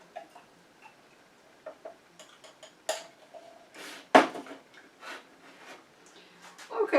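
Propolis soaked in glycerin stirred in a container, irregular clinks and ticks of a utensil against the sides, scattered and close, with some louder knocks and short pauses, and no talking.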